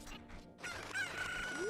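A rooster crows in The Legend of Zelda: Ocarina of Time, a short, bright, synthesized call that rises and falls once over a faint game background.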